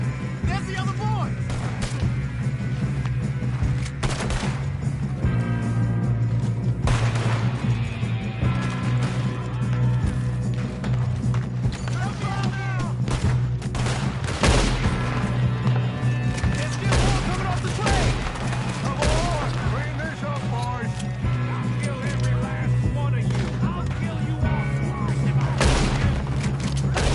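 Repeated gunfire crackles through a Red Dead Redemption 2 shootout, shots popping steadily over a constant droning music bed, with voices calling out now and then.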